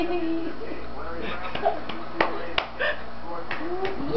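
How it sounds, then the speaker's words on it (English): A small child claps his hands a few times, soft and irregular, beneath an adult's cheerful voice in a quiet room. "Clap hands."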